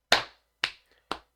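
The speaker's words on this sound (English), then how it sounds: "Clap, clap, clap for me." Three crisp hand claps sound close and alone, evenly spaced about half a second apart, each a sharp bright smack with a short decay and the last slightly softer.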